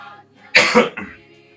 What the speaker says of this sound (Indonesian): Waduh, batuk ini.